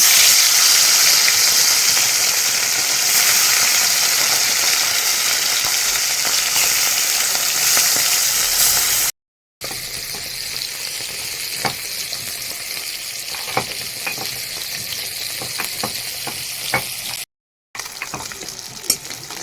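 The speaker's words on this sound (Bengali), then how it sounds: "এদিকে আমি কড়াইতে তেল দিয়ে দিয়েছি তেলটা গরম হয়ে গেছে এখন মাছগুলো ছেড়ে দাও" Live pond bata fish hit hot oil in a kadai, giving a loud, continuous crackling sizzle that settles into steady spitting and popping, broken by two brief silent cuts.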